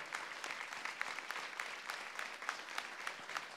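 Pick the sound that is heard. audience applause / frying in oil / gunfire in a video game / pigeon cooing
audience applause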